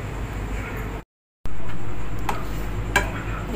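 Gram flour is roasted and stirred in a pan for Mysore pak, a steady scraping hiss with a few sharp spatula taps against the metal. A brief moment of total silence interrupts it near the start.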